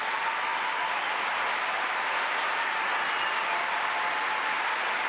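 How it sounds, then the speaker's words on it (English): A large arena crowd applauds at the end of a ladies' free skate at the 2007 Skate Canada figure skating event, a steady, even roar of clapping held at a constant level throughout. "And the crowd responds to Nana Takeda"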